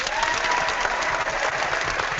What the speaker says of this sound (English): I'm liking the applause